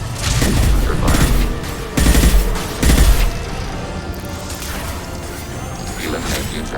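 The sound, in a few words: gunfire in Mass Effect 2 video game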